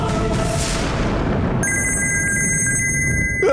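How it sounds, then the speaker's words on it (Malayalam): A telephone rings indoors in a television drama scene, a loud electronic bell tone that starts partway through and holds steadily after a dull low rumble, with no one speaking. "phone ring ചെയ്യുന്നടാ"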